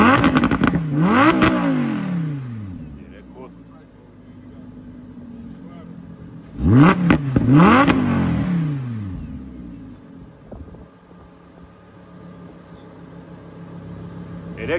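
A Lamborghini Huracan engine in sport mode revs hard twice, each burst climbing and falling in pitch with a loud, raspy exhaust, close by, with quieter idling between the bursts.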